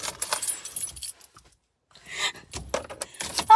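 Car keys jangle in short metallic bursts near the start and again toward the end, with a quiet pause between, close and fairly loud, no talk during the rattling.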